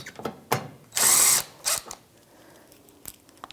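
Bolts being driven into a Jeep Compass front CV axle assembly with a power tool: short ratcheting clicks, one sustained whirring burst and another brief spin, close and loud, then quieter tapping.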